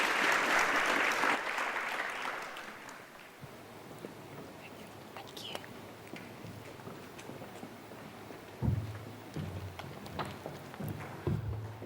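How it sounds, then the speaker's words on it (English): Applause from a conference panel audience rises loud at the start, then fades to scattered clapping with shuffling, a few faint voices and low room noise. "Can we have another round of applause, please,"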